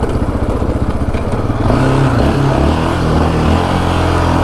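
A Raptor 700 ATV engine rising from a throbbing idle to a loud, rough roar as it accelerates over washed-out desert terrain in Arizona, close and steady, with rattling from the rough ground.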